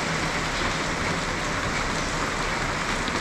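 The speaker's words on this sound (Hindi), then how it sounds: "बाहर से बारिश की इतनी अच्छी आवाज़ आ रही है" Steady, dense rainfall hisses continuously, a close and even wash of drops with no talking over it, heard from indoors on a trip to Gangotri.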